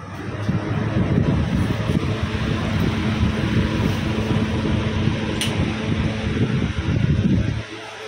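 A household air cooler fan blows steadily indoors, a loud constant rushing whoosh with a low hum underneath that runs almost the whole time before suddenly dropping off.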